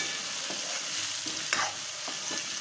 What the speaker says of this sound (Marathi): असं चांगलं तेलात परतून घ्यायची